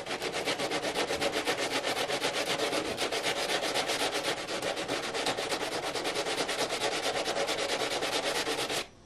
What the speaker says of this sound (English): I'm going to go ahead and start sanding a few of these off.